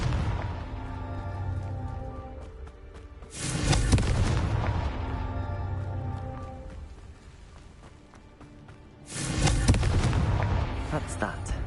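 Two booming blasts from an explosion spell in a video game, each a loud burst followed by rumbling decay, with background game noise between them.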